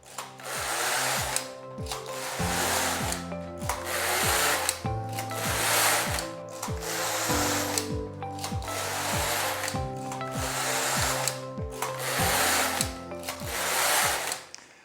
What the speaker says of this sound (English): And now knit until I reach row number 260 and my hat is done.